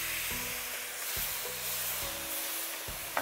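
Soy sauce poured into a hot wok with ginger powder before shrimp are added, loud steady sizzling and hissing with stirring bumps of the pan.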